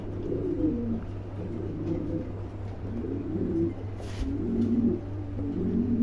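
Pigeons coo steadily in low, throaty rolling calls, several birds overlapping without pause against a constant background hum.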